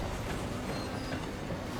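A moving train rattles inside the Hitman Freelancer game, a continuous dense rumble of wheels and carriages at a moderate level without any voices.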